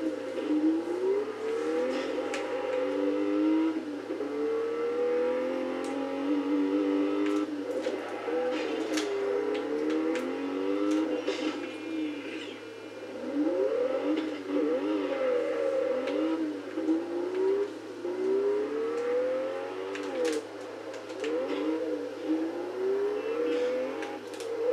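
A Porsche RTurbo in the racing game Test Drive Unlimited 2 drives around Ibiza, its engine droning steadily and rising and falling in pitch through gear changes, loud and continuous with no talk.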